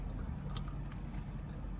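Crunchy fried chicken bitten and chewed close to the mic, a steady dense crackle and crunch running the whole time with no talking.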